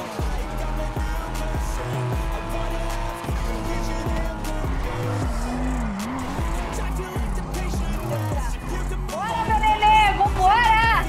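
A video game car driving on a punctured tire, engine droning loudly and continuously with shifting pitch, squeals and revving near the end, while a person talks over it throughout.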